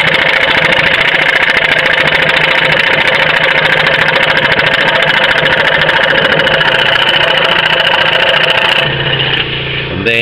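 A scroll saw cutting along marked lines into a corner, a loud continuous buzzing motor with rapid blade chatter, close and steady before easing off near the end.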